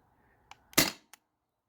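A Crosman CO2-powered home defense launcher fires a single shot through a chronograph: one sharp, loud pop with small clicks just before and after, then silence.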